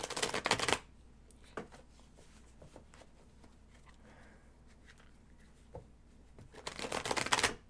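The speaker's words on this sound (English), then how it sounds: "shuffling my cards." Tarot cards are shuffled in two brisk, close riffling bursts at the start and end, with a few faint taps and soft handling sounds between them in a quiet room.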